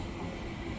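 A passing train rushes by as a loud, close, steady roar of wheels and carriages that fills the whole moment without a break.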